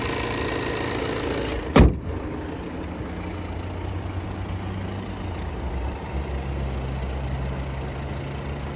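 Volkswagen Tiguan Allspace engine idling steadily at close range, a low continuous hum with one brief sharp knock near the start.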